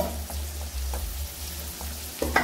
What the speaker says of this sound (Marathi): कांदा छान परतून घ्यायचा आहे।